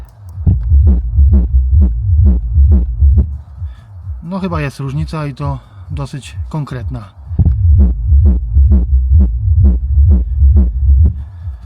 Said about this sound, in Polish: Delikatnie może słychać oryginalny subwoofer, ale słuchajcie teraz.